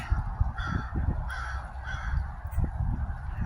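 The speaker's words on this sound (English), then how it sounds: "you can hear a crow in the background there" A crow caws repeatedly in steady rhythm, somewhat distant, at Mission San Juan Capistrano in California, over a low rumbling background.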